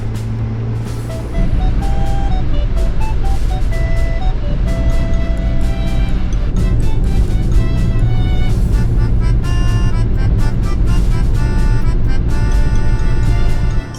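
A kei camper, the Indy 727, drives slowly along a snowy mountain pass road. A steady low engine and road rumble runs throughout, with tonal, music-like notes layered on top and no talking.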